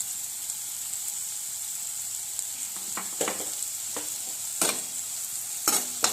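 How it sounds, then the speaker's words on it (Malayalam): Sliced onions sizzle steadily in hot oil for Kothu Chapathi, with a constant frying hiss and several sharp scrapes and clacks of a spoon stirring the pan. "സവോളേനെ നമുക്ക് ഇട്ട് കഴിഞ്ഞിട്ട് അതിനെ വഴറ്റാം. നന്നായിട്ടൊന്ന് ഇളക്കി കൊടുത്ത് എണ്ണയ്ക്കകത്ത് വഴറ്റാം."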